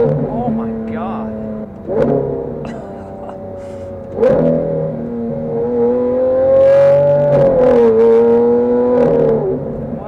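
A very loud Lamborghini Aventador with all-wheel drive, engine revving in sharp bursts and then holding a droning high pitch as it accelerates, close up from inside the car, with some talk over it.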